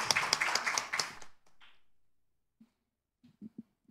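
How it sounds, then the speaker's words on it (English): Warm audience applause at the Asian Leadership Conference welcomes South Korea's Minister of Environment to the stage, a dense burst of clapping that fades after about a second and a half into near silence before a few soft, brief voice sounds. "So please welcome her with a warm round of applause."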